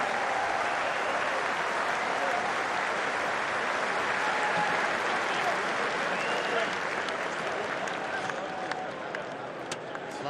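A large stadium crowd at a Premiership rugby match between Gloucester and Northampton applauds continuously, a dense, loud wash of clapping and cheering that holds steady for ten seconds before easing slightly at the end.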